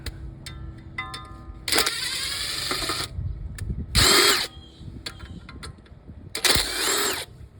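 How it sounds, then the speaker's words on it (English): A power drill running at full speed to unscrew the cover of a pool motor during a repair, three loud whirring bursts of about a second each separated by pauses with faint clicks and handling noise. "I like using my drill for all these things because it makes it a little bit faster"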